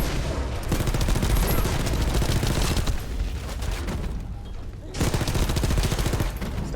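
SMG fire in the shooter game The First Descendant, loud, dense, continuous rapid bursts close up, with a short lull near the end before the firing resumes.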